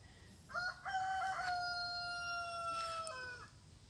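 A rooster crows once in a long, drawn-out call, clear and fairly close, with quiet outdoor ambience around it, in a village in the morning.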